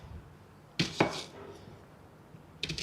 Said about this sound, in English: I'm just chopping them up a little bit smaller so it's a little easier for the blender